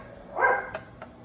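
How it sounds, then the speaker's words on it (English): A dog indoors gives a single short, moderately loud bark aimed at big crows outside, followed by a couple of faint clicks. "What do you see, Tate? You see some big old crows out there?"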